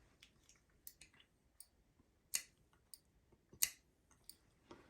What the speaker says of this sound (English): you do a suction on this opening to see if it clicks